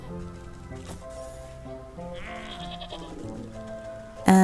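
Sheep bleating in the video game Wytchwood, a few wavering bleats over background game music, ending in a sudden louder burst.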